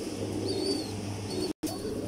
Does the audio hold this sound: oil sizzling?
no